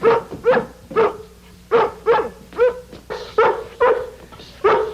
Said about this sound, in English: I told Lassie to bark every time Gramps sits up